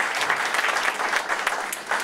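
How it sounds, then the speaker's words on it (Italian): Applause from the audience at the presentation of a local election list in Brolo, a steady patter of many hands clapping with small surges, fairly close and alone, with no speech over it. "vi credo un applauso per loro che sono con noi"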